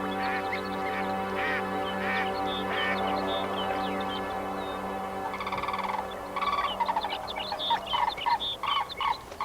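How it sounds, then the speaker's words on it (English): King eider duck on the tundra gives a run of nasal, harmonic calls in short repeated bursts, loud and close, with a steady low background hum. "Another tundra bird frequently harassed by the jaeger is the king eider duck, and it too can fend for itself."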